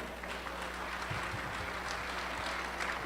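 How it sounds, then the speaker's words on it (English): Audience applause at a gathering, a soft, continuous patter of many hands that stays fairly faint and distant for the whole stretch, with no voices over it. "Please give a round of applause to Ms. Sonia Tupeño."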